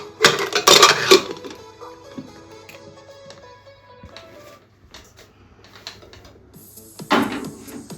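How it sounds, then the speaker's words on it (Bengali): Stuffed bitter gourd being set into a pressure cooker, with clattering metal pot and lid clinks: a loud burst of knocks at the start, quieter scattered taps, then another sharp clank near the end. "এবার আমরা এটা কুকারে বসাচ্ছি"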